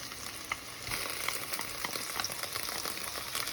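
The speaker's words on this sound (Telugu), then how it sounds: "పేస్ట్ని పచ్చివాసన పోయేంత వరకు వేయించుకోవాలి." Ginger garlic paste sizzles with onions in a hot pan for bagara rice, a steady soft crackle with scattered pops and light stirring scrapes, with no voices.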